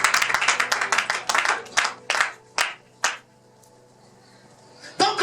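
A church congregation clapping together in praise of the Lord, a dense burst of near, loud applause that thins into a few separate claps, then falls quiet before one last clap.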